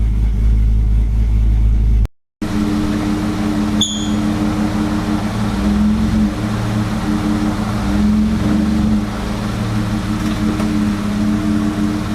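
A 2018 Chevy Colorado engine fitted with a tuned aftermarket intake and exhaust idles with a steady, deep rumble at close range, after a brief cut at the start.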